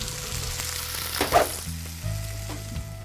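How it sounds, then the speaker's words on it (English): Potato slices fry in hot olive oil in a pan, a steady close sizzle with a brief louder crackle near the middle and a low background hum. "first I'm gonna add in some olive oil, then I can throw in my potatoes and let these brown."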